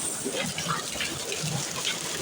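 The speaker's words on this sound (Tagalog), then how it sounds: "Nagpulan og ice sa Riyadh." Hail and heavy rain in Riyadh, with water pouring into a room: a steady, dense rushing hiss of falling water and ice, loud and continuous throughout, with a faint voice in the background.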